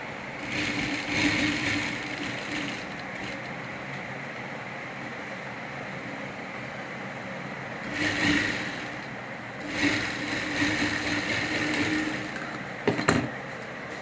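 A domestic sewing machine stitches a designer blouse, running in steady mechanical bursts with brief pauses and short louder spells near the middle and end, heard alone at moderate level.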